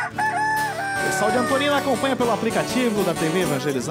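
A rooster crows in a coastal town in Paraná, Brazil, its call mixed with music and a voice talking over it throughout.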